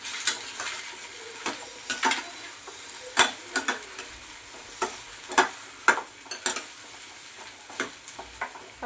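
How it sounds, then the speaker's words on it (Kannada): Ridge gourd fries in a little oil over a low flame, giving a quiet, steady sizzle. A utensil scrapes and taps against the pan at irregular intervals as the gourd is stirred. "2 ಸ್ಪೂನಷ್ಟು ಆಯಿಲ್ ಹಾಕ್ಕೊಂಡು ಲೋ ಫ್ಲೇಮ್ ಸ್ವಲ್ಪ ಹೀರೆಕಾಯಿ ಫ್ರೈ ಮಾಡ್ಕೊಬೇಕು ಎಣ್ಣೆಯಲ್ಲಿ."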